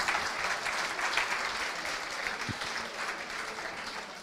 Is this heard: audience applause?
yes